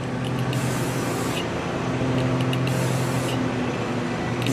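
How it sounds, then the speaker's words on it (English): Quick aerosol spray bursts misting paint over an HO scale hopper model kit during weathering: two or three short hissing passes with brief pauses between, close and steady, over a low background hum. "A quick overspray."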